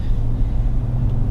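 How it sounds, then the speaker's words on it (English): Loud, steady low-pitched rumble of tires rolling on the road, heard from inside a 2023 Ford F-150 Tremor or Chevy Silverado Trail Boss pickup while driving. "now I gotta listen to these really loud tires again"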